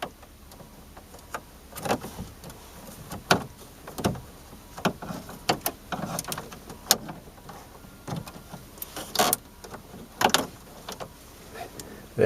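An ignition switch bezel is pried off inside a Chevrolet Impala with a plastic panel remover tool, making repeated sharp clicks, scrapes and creaks at close range.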